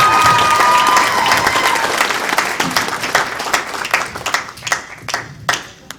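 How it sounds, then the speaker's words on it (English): An audience at a TFW 2011 Q&A session breaks into loud, dense applause that slowly thins into scattered individual claps. "Everybody, round of applause."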